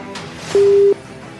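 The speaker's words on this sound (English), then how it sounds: "the phone is ringing, trying to get on to Jos in Plateau State" A telephone line rings out during a radio call-in show, one short steady electronic tone that sounds loud and clear over a faint studio background.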